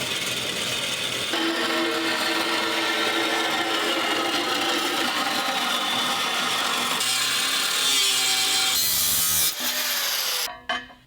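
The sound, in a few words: cutting the flange off an old oil pan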